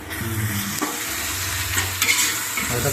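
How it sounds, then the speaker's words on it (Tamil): Biryani masala sautéed and stirred in a pan for chicken biryani, giving a steady bright sizzle with scraping stir strokes and a few soft clinks, near and fairly loud, with no talk. "அடுத்து அப்புறம் லைட்டாக வதக்கிட்டு அப்புறம் பொடி ஆட் பண்ணணும்."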